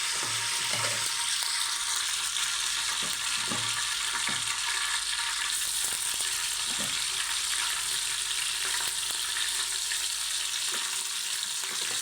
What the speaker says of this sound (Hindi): पहले ये घी फ्राई हो रहा है